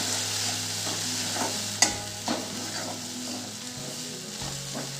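Red chili powder, coriander-cumin powder and turmeric stirred in hot oil over softened onion and tomato for cabbage bhaji, giving a steady low sizzle with occasional spoon scrapes and clinks against the pan.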